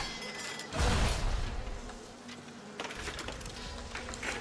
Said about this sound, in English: Come on, bees, take him out.